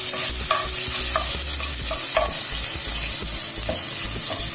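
Chicken pieces stirred in a pot of frying Bangalore-style biryani masala, with scraping spoon strokes over a steady loud sizzle throughout.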